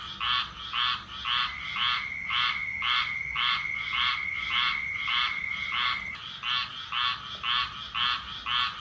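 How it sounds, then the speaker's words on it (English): Frogs croaking in a backyard in Winter Garden, Florida: a steady, evenly spaced train of loud, rasping pulses about three per second, with a thin sustained whistle-like tone running underneath for several seconds, no voices. "So that is actually frogs from our backyard."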